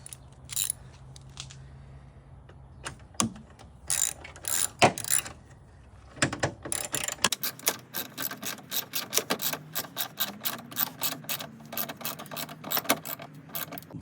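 A screw on the headlight assembly of a 1996-2003 Ford F150 is tightened with a ratchet, giving a long run of close, fast metallic clicks after a few scattered knocks.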